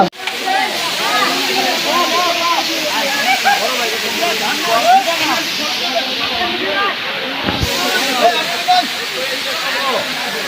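Khoiyachhora waterfall in Sitakunda roars with a steady, dense rush of falling water, constant and close for the whole stretch, with a few faint voices mixed into the noise.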